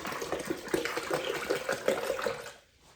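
Water is poured steadily into a container holding milk thistle and seeds, giving a continuous splashing, gurgling stream for a few seconds that tapers off abruptly near the end.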